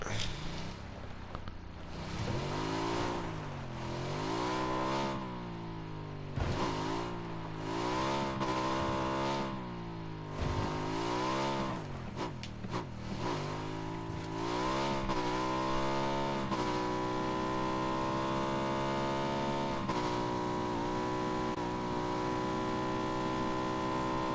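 A car engine in the PUBG video game revving up and down repeatedly, loud and close, rising and falling in pitch before settling into a steady high drone, with talk over it.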